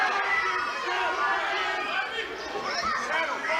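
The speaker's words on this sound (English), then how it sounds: "The crowd's very excited about this fight." Excited crowd noise at a 3FC MMA fight, a busy roar of cheering and chatter from the arena filling the background while a commentator talks over it.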